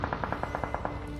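Automatic gunfire in a mobile battle royale game played on an iPad Mini 5: a quick burst of about nine evenly spaced shots, moderately loud, with no talking.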